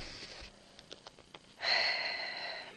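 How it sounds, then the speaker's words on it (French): Several short sniffs through the nose from a woman with a sniffly nose, close to the microphone, followed by a longer breathy exhale or snort-like rush of air. "Désolée si vous m'entendez un peu renifler"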